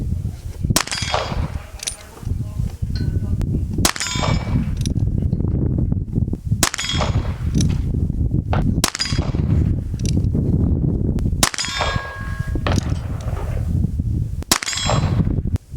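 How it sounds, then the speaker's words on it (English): Sharp single shots from a Ruger Wrangler revolver firing CCI Mini Mag 40-grain round-nose .22 rounds at targets 30 yards away, each report spaced a couple of seconds apart with a ringing metallic clang following several shots. "We're going to be shooting the target on the left this time."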